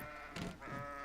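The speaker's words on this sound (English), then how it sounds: "Don't let a herd of goats get the best of you." A single goat gives a short, nasal bleat in the video game Kenshi, with faint background ambience.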